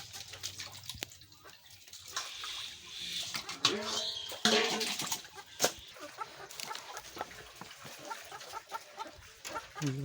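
Chickens cluck intermittently amid scattered clatter and rustling, with a burst of louder squawking midway; moderately distant and faint.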